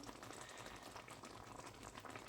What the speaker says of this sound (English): It's bubbling away nice.